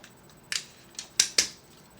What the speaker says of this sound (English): You can hear some rattling in there.